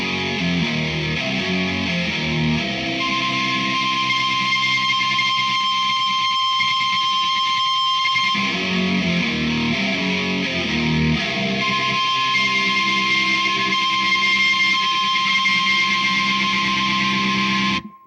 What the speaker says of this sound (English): I started playing behind the nut with the open strings on the beat.